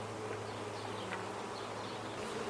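Honey bees buzz steadily around an open hive during an inspection, a dense continuous drone with no talk.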